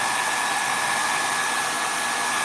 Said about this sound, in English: using the old hairdryer.